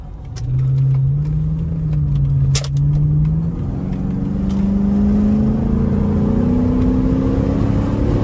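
Chrysler 300 SRT8 V8 engine driving through traffic, a steady close engine drone that rises in pitch as the car accelerates, with a brief sharp click partway through.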